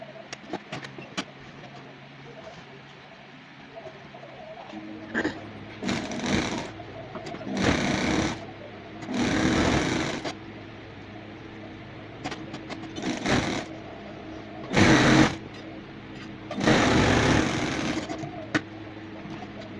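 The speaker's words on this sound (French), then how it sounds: "j'ai cousu la petite bande de l'élastique" A sewing machine stitching a fabric band that will cover an elastic for a headband, heard in several rapid buzzing runs of two to three seconds separated by pauses, close and clear against a quiet room.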